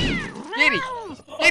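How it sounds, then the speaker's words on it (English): A cat meows a few times in the video game Postal 2, close and clear, with a voice briefly calling out between the meows. "I heard a kitty."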